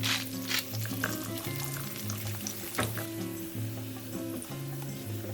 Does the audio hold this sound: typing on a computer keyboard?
no